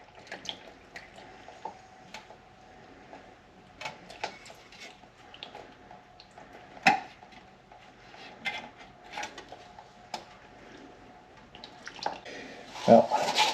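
Automatic transmission fluid drains from the pan of a 2001 Subaru Forester with a 4EAT gearbox. It sounds like irregular splashing and dripping into a catch pan, with a few louder splatters and clanks near the end.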